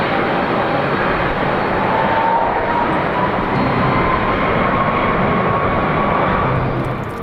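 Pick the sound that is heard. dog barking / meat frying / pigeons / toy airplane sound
toy airplane sound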